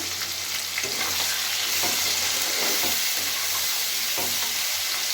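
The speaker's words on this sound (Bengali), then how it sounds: "সবার প্রথমে আমি চিংড়ি মাছগুলোকে ভেজে নিচ্ছি" Prawns frying in hot oil seasoned with turmeric and salt give a steady, loud, close sizzle with crackling pops and occasional stirring scrapes throughout, without any voices.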